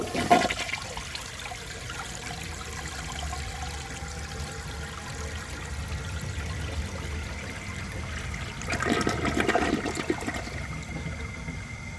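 A 1973 Eljer Emblem toilet flushes with a continuous close rush of water that swells into a stronger surge toward the end.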